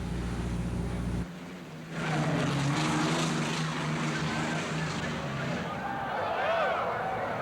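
Miss Budweiser, an unlimited hydroplane racing boat, roars past with a loud sustained propeller-driven engine drone, rising after a brief quieter stretch, while someone talks over it.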